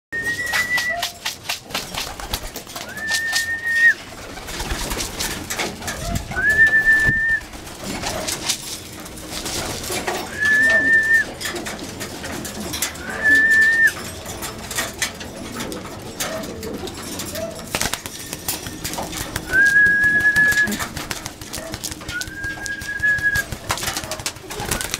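Racing pigeons cooing in a loft, with repeated soft rising coo calls every few seconds over busy rustling, wing flutters and scratching close by.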